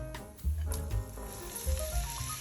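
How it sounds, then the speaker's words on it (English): Diced garlic sautéing in a hot cast iron pan, a close crackling sizzle with soft scraping stirs and clinks, fairly quiet and continuous. "A handful of diced garlic. Gonna saute them"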